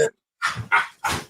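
A dog barks three times in quick succession, close and fairly loud, each bark short and sharp with brief gaps between.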